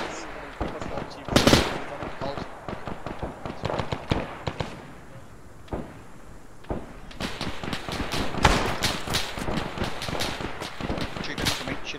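Bursts of gunfire rattle through an Arma 3 milsim firefight, rapid cracks and machine-gun volleys in irregular clusters, some close and sharp, others in quick strings, with a loud burst near the start.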